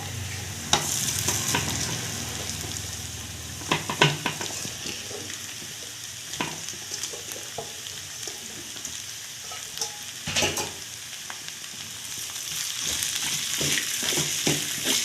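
Onions and flattened rice (poha) sizzle steadily in a hot pan for aval upma, with repeated scraping stirs and clinks of the spoon cutting through the frying hiss.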